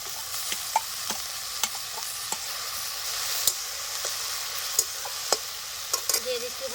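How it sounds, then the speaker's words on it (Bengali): Chopped nali leaf greens frying with onions and green chilies hiss steadily in a pan, broken by sharp clicks and taps of a stirring utensil scattered throughout, close and moderately quiet. "এখন আমি দিয়ে দিচ্ছি কেটে রাখা নালি পাতা শাকগুলি।"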